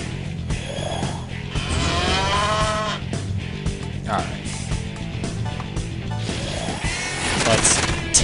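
A cow in the video game Digital Devil Saga lets out drawn-out, wavering moos over a backdrop of game sound, with a person talking along in the room.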